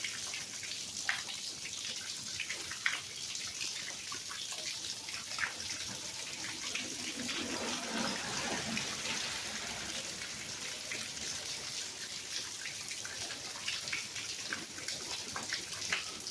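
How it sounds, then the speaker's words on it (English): Rain falling steadily outdoors, a soft continuous wash of drops and trickling water with a few sharper patters, quiet and without talk. "I love the sound of the rain."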